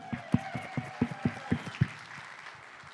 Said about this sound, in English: Let's say a big round of applause for our students again.